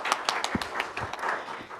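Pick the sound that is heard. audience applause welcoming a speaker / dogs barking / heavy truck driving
audience applause welcoming a speaker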